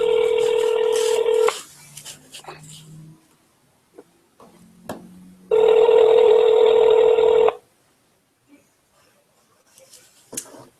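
Phone on speaker placing a call: a loud ringback tone plays for a couple of seconds, falls into quiet with soft clicks and low tones, then rings again just as loudly for about two seconds.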